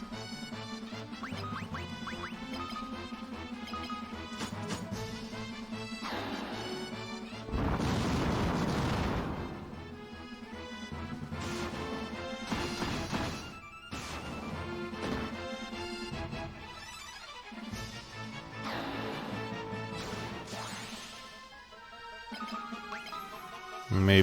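A Fire spell cast during a turn-based battle in Final Fantasy II, a loud burst of crackling, roaring noise lasting about two seconds, set within steady game music and other battle effects.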